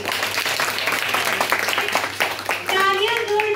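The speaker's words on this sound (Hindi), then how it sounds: "एक बार अपने लिए जोरदार तालियां तो बजा दीजिए" Audience applause at an inclusive poetry competition, dense loud clapping filling the whole stretch with voices mixed in beneath it.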